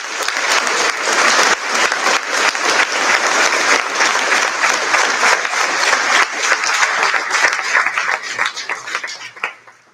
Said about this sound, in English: Let's give a round of applause for all of them.